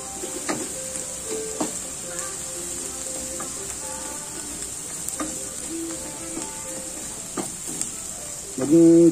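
Garlic fries in butter in a pan for garlic buttered shrimp, giving a soft, steady sizzle with scattered light pops and stirring clicks, fairly quiet, ending in a louder clatter.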